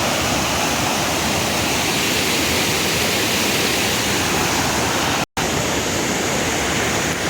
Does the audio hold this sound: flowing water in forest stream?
yes